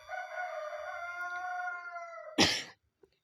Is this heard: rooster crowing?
yes